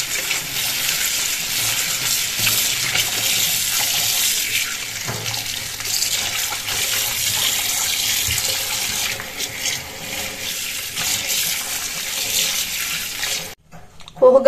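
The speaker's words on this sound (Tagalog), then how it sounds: "Hugasan na po natin mga kabayabas yung ating pechay." Pechay (bok choy) is washed under a running tap, giving a steady, loud rush of water with splashing and rustling leaves throughout, before the flow cuts off abruptly near the end.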